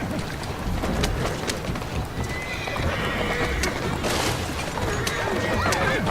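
Horse-drawn carriage hooves clip-clop steadily in Assassin's Creed Syndicate, with a horse whinnying amid continuous busy street ambience and faint bird calls.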